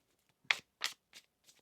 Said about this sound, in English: Let's get one more shuffle here for you.